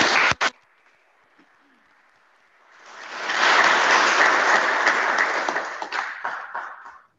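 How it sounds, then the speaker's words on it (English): An audience at a university Founders Day ceremony in Edo State, Nigeria, breaks into loud, sustained applause after a brief quiet opening, then the clapping gradually thins out toward the end. "Can we please applaud Professor Lumumba once more?"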